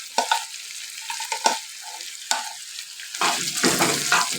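Beef brain (maghaz) stirred and mixed in a hot pan, with bursts of sizzling and frying broken up by scraping spoon strokes, close and moderately loud, denser sizzle toward the end.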